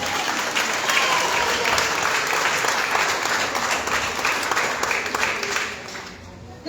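A church congregation at a quinceañera service claps for the Lord in a sustained, dense burst of applause lasting several seconds, loud and even before tapering off at the end.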